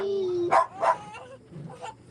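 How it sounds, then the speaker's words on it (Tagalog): An agitated dog at a house lets out a few short, sharp barks in quick succession after a brief high whine, fairly close and loud. "Itong aso."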